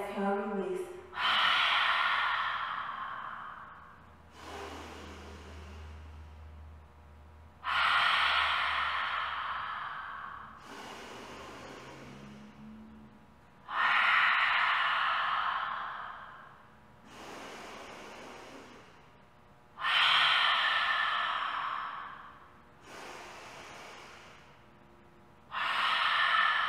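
Powerful breathing during a standing yoga exercise: forceful inhales and exhales repeat at a steady rhythm of roughly one breath every three seconds, loud and close, with an instructor talking between some of the breaths.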